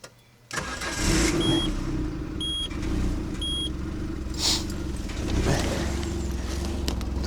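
A car engine running on ethanol fires up after a complete rebuild, cranking briefly before catching into a loud, rough idle with slight fluctuations, a few short beeps chiming over it.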